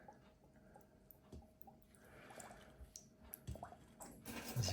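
A new Siemens EQ700 coffee machine water filter is squeezed in cold tap water, giving faint squelches, drips and small bursts of water as air bubbles escape, growing louder toward the end.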